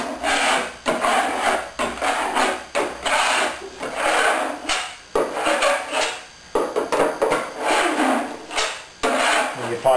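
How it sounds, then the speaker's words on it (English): A roller spreads epoxy across a fabric weave to fill it, making a steady run of close, rhythmic rolling and rubbing strokes with brief pauses between passes. "I'm using the roller a lot more"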